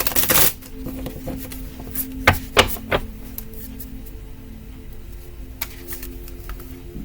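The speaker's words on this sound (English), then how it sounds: "I had already shuffled the cards" A deck of tarot cards is riffled and tapped briefly at the start, followed by a few soft clacks and handling sounds in a quiet room.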